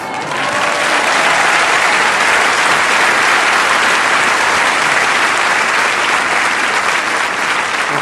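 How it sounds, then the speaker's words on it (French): An audience at an Olympia comedy show bursts into loud, dense applause, a continuous wash of clapping from a large crowd held steady for several seconds with no talking. "C'est gentil d'applaudir,"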